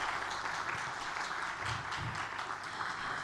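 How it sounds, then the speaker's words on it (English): An audience at an international media briefing on the Visit Nepal 2020 tourism campaign gives steady applause to welcome a speaker onto the stage, a dense, even wash of many hands clapping at once. "Let's welcome him with a huge round of applause"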